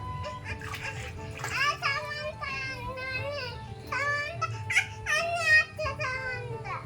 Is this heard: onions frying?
no